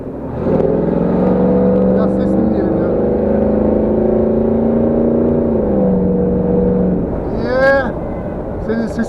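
A large Chevrolet Tahoe V8 engine rumbles loudly at close range with a deep steady drone, then swells briefly as it revs, with faint voices in the background.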